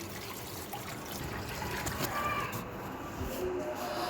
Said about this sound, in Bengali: এখানে আমি মাছগুলো পরিষ্কার করে নিচ্ছি।